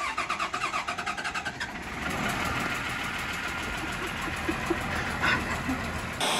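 A car engine cranks in rapid pulses for under two seconds, catches, and then settles into a steady idle that rises slightly as it pulls away, fairly close and with no talk.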